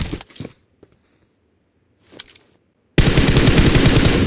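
PUBG Mobile gunfire: a couple of short, scattered shots and faint bursts, then a loud, continuous close-range automatic volley that fills the end of the clip.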